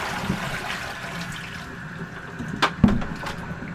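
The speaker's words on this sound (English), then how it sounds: "Now we'll dump the bleach water off the outside." Bleach water is dumped from an aquarium water change hose outdoors, a soft running splash of water that builds and ends with a couple of sharper gushes and splatters near the finish.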